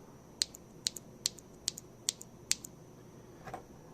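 A lubed mechanical keyboard switch with keycap, pressed about seven times in a steady rhythm, each press a crisp, close click-clack with a softer final press.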